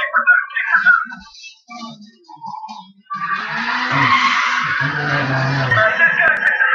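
Loud, sustained tire skid and screech from a car in the Need for Speed racing video game, building suddenly and holding to the end, with a voice talking over the first part.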